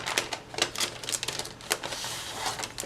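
An inkjet printer runs while printing on clear waterslide decal paper, giving a steady stream of rapid mechanical clicks and clatters at close range with no talking.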